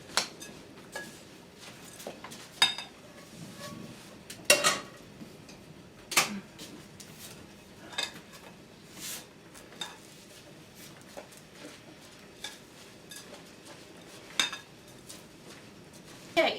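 A spoon stirs a heated bird seed mixture in a bowl, giving irregular clinks and scrapes against the dish, fairly quiet and close, with soft rustling between the sharper taps.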